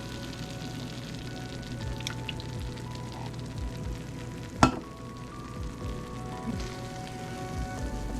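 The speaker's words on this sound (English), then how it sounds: "We're going to be adding 1/4 cup of chicken stock, and you want to let that reduce and simmer for 5 minutes or so." Chicken stock reducing at a simmer in a pan for a white sauce, a steady close bubbling fizz throughout with one sharp clink partway through.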